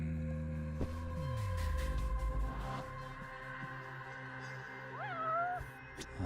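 A cat meowing in the video game Judgment, two short rising-then-falling meows near the end over a quiet in-game room ambience with other faint game sounds earlier.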